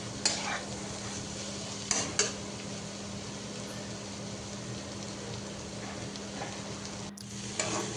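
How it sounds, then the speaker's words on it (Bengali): A vegetable bhaji fries on a home stove while a spoon stirs it, giving a soft, steady sizzle with a few scraping clinks against the pan. "তো চুলাতেও ভাজি নাড়াচাড়া করছি"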